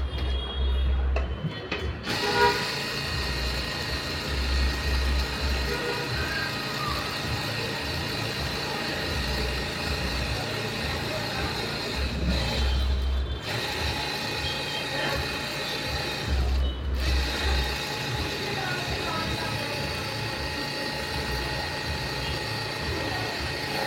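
Sewing machine stitching a school uniform pant, a steady mechanical whirring hum with short pulsing bursts at the low end and two brief pauses, running alone and close.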